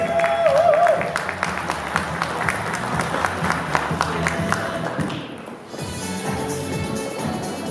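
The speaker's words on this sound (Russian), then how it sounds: "Приветствуем аплодисментами наших участниц!" An audience applauds steadily with dense, continuous clapping, joined near the end by a brief tone and music as the clapping fades.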